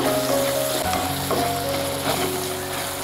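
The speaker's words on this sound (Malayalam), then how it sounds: "അടുത്തായിട്ട് നമ്മൾ തക്കാളി ചെറുതായിട്ട് അരിഞ്ഞാൽ അതുകൂടെ ഇതിൻ്റെ കൂടെ ചേർക്കുക" Chopped tomatoes fry in a pan over a low flame for a green peas curry, giving a continuous close sizzle with a few stirring scrapes and no talking.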